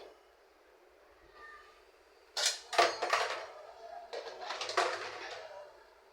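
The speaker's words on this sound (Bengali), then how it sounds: "কিছু প্লেট বাটি ছিল, এগুলো আমি ধুয়ে নিছি, এখন ঝরা দিয়ে রাখতেছি" Washed plates and bowls set down to drain in a home kitchen, a few sharp ceramic clinks and clatters in two short bursts after a quiet stretch, close and moderately loud.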